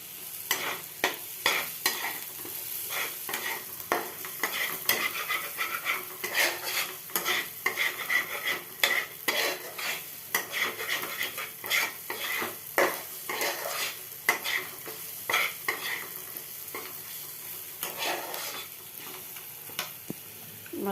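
Food frying in oil and ghee in a pan while a utensil stirs it, giving close clinks and scrapes in an uneven rhythm over a constant soft sizzle, with no talking.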